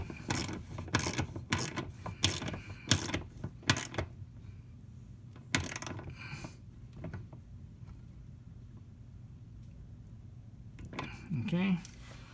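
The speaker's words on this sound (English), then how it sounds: "Now I'm just going to use my 10mm." A 10mm socket ratchet turns a bumper screw on an ND Mazda Miata, giving quick clicking bursts up close, then a pause with quieter handling noises and more clicks near the end.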